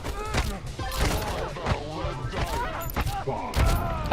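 SMG gunfire in a video game crackles in rapid bursts, sharp repeated shots mixed with other game effects and talking, fairly loud and busy throughout.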